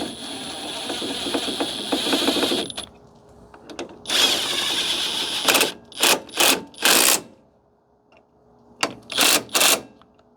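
A power tool runs in the bolts of a Hellcat brake caliper on a HEMI-swapped Jeep Renegade: a sustained whirring run, then a longer one, then a series of short, sharp bursts close by.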